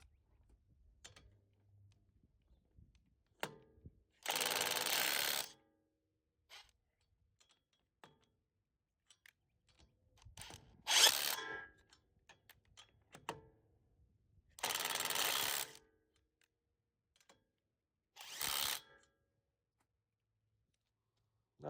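An 18V brushless cordless impact wrench runs in auto mode, firing four harsh hammering bursts of about a second each, separated by quiet gaps and small handling clicks.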